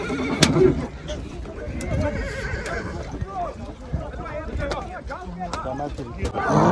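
Horses neighing and galloping at a mountain-pasture ulak (goat-pulling) match, with loud whinnies and thudding hooves over a babble of crowd voices, close and busy throughout.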